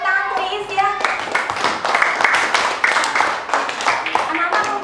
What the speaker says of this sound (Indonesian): tepuk tangan untuk Iis ya